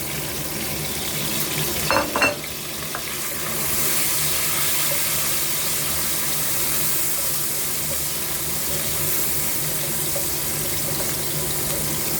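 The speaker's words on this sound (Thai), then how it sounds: "ใส่พริกกับกระเทียมลงไปผัด" Chili and garlic stir-frying in hot oil for a grouper and bitter melon dish, a steady loud hiss and sizzle with a brief clatter of stirring near the start.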